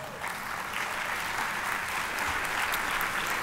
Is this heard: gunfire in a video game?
no